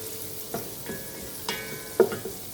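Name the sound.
chopped onion frying in a pan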